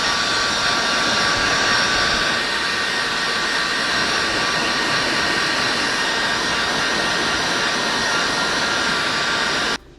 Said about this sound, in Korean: 이렇게 드라이기로 말려주시면 이쪽에 얼음이 녹으면서